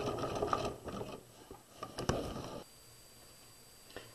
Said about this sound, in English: we're going to stitch past our original stitches, and then we're going to back stitch